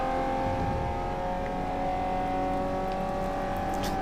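Engine note from a car in Forza Motorsport 4, a steady sustained drone with strong held harmonics and slight rising pitch, loud and continuous with no break throughout.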